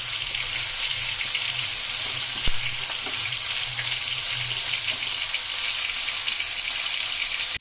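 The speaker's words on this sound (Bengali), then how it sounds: "আমরা একটু রসুন বাটা একটু আদা বাটা দিয়ে দেবো। ভালোভাবে ভেজে নেব।" Softened onions fry with garlic and ginger paste in a pan, giving a constant close sizzle with one sharp tap against the pan partway through.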